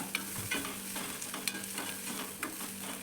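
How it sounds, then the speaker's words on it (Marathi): Sliced onion, nearly browned after cooking under a lid, is stirred back and forth in a pan: soft steady frying sizzle broken by several sharp spatula clinks and scrapes, fairly quiet, with no talking. "चांगला इकडून तिकडून ढवळून घेतल्यावर कांदा किती कमी झाला आहे"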